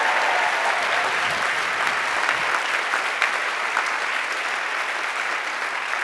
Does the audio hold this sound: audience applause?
yes